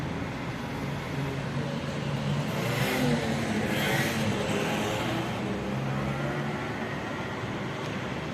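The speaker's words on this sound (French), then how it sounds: "il y a des bruits de voitures, des motos, des mobylettes" Busy Marseille city street with passing cars, motorbikes and mopeds, a steady continuous traffic roar with engines swelling closer around the middle, no voices.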